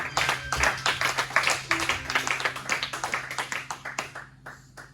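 A church congregation claps together in praise of Christ, a dense, rapid run of many hands with a fairly steady rhythm that thins out and fades toward the end.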